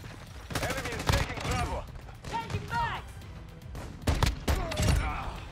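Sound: gunfire from a gun in the video game Modern Warfare II

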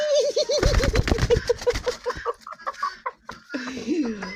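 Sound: bantam hen clucking on nest

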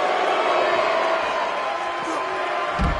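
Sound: wrestling arena crowd cheering

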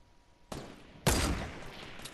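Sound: gunshots fired at a bush

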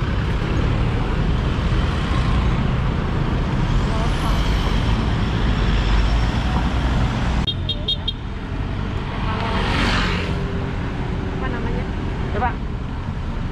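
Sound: busy Manila road traffic

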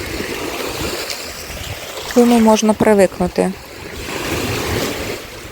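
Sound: sea waves at beach in Chornomorsk

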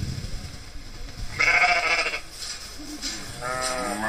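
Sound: sheep bleating

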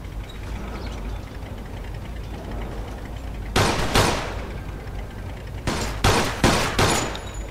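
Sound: gunfire in video game Mafia II

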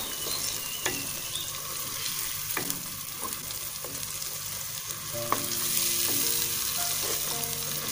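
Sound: onion, tomato and green chilli paste frying while stirred

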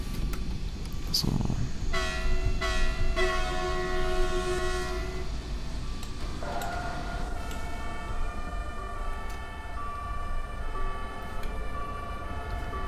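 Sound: emergency vehicle sirens in Train Simulator 2020 video game

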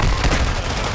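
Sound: gunfire in the video game Call of Duty Warzone

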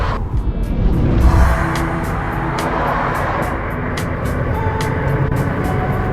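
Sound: car driving on a bad road

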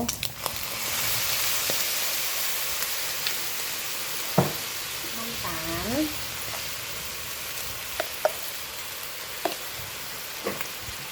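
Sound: stir-frying egg fried rice with Chinese sausage

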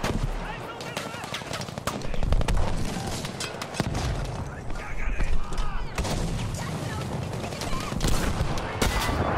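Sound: Lewis gun firing in video game Battlefield V

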